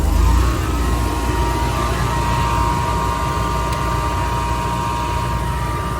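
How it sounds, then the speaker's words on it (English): Home standby generator starting up, a steady loud engine drone with broadband roar that holds constant throughout, heard alone. "and now the generator's starting up"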